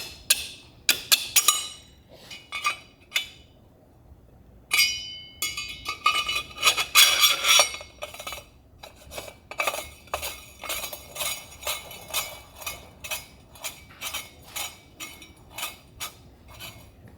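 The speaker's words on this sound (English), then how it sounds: "we're going to spin our impeller on" A Rotax mini jet boat impeller spun by hand onto its metal shaft, producing scattered clinks and metallic ticks followed by a run of rhythmic light clicking, close and without speech.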